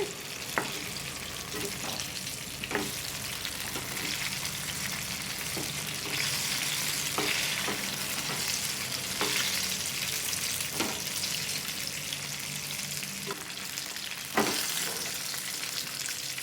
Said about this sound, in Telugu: వంకాయలు ఇలా మగ్గిపోయినాయండి చక్కగా ఇప్పుడు వీటిని వెల్లుల్లి కారంతో ఫ్రై చేసుకోవాలి